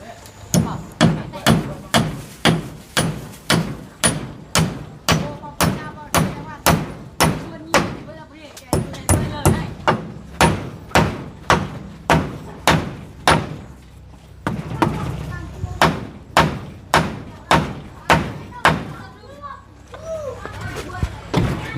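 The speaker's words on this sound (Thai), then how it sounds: "ตอกบันไดก่อน" A wooden staircase is hammered in a steady series of sharp, loud blows, roughly one per second, with short breaks between runs. Faint voices sit in the background.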